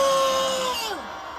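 A rally crowd at an anti-impeachment gathering outside the Corruption Investigation Office roars and shouts loudly and close, with one high voice rising then sliding down in pitch before the noise fades.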